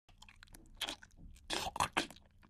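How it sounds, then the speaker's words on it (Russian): A person loudly chewing gum close up, with wet, crunchy bites and smacks in an uneven rhythm that grow louder toward the end. "Когда человек громко жует жвачку."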